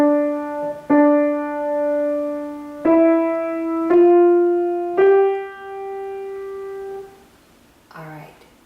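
Measures 3 and 4 of Little Black Lamb played as a clear, sustained note sequence, each tone stepping slightly higher, alone and near, with a short vocal sound at the end.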